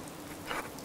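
Rain falls steadily in the Fallout 4 VR video game, a soft continuous hiss of drops with a faint brighter patter rising briefly midway, no talk over it.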